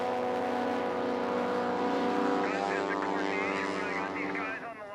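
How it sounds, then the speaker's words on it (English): A supercharged, nitrous-fed Carbon Cub STOL plane of over 300 horsepower drones loudly and steadily with a strong harmonic engine tone at a STOL air race, with a commentator talking over it. "Carbon Cub, putting out well north of 300 horsepower, supercharged engine with nitrous"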